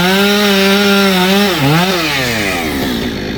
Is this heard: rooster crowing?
no